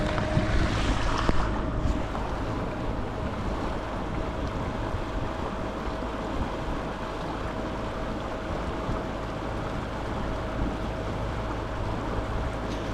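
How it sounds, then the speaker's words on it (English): A fishing kayak's motor runs at full throttle on open water, a steady drone blended with wind buffeting the microphone and water rushing past the hull throughout. "I'm gonna go ahead, kick up the throttle, and we're gonna go full speed."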